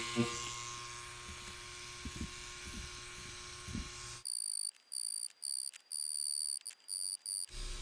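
Tattoo machine buzzing at 8 volts: a steady electric whine with a faint voice over it, then a sharper, high-pitched run of stop-start bursts as the needle works, cutting in and out in short pulses.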